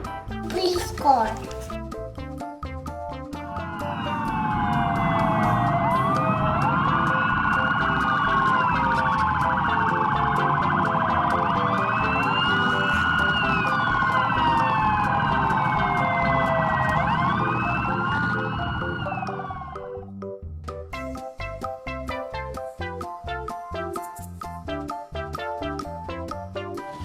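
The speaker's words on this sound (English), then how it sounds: "Police car." A police car siren wails loudly and steadily for about fifteen seconds, sweeping up and down, with a voice speaking over it and more talk after it fades.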